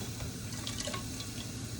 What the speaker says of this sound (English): I'm going to pour the cold water